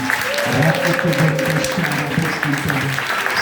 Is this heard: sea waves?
no